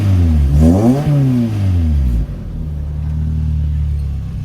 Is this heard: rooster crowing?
no